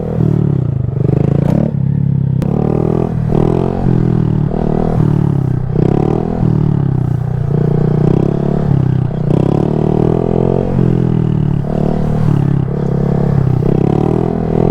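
A 125cc Honda Grom with aftermarket parts is ridden in second gear, its small engine droning loudly and continuously with repeated rises and dips in revs, close and steady with no talking.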